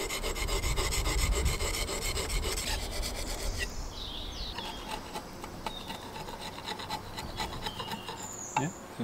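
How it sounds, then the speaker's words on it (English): A blade is rubbed against a sharpening stone during an oak barn truss build, giving a steady rasping scrape that is fairly faint and continuous, with a few brief squeaks near the end. "You rub it against a stone."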